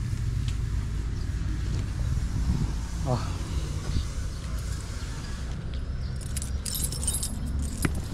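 Keys jangle in an urban garden setting, a brief metallic jingle near the end over steady low background noise, with voices talking nearby.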